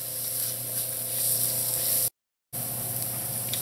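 Flour being stirred and cooked into butter in a pan, giving a steady close hiss and sizzle with a soft scraping texture that runs throughout and stops abruptly for half a second.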